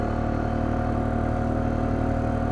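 A Polaris diesel ATV runs at full throttle while towing a load, giving a steady, loud, droning engine roar close by that holds constant throughout with no talk over it.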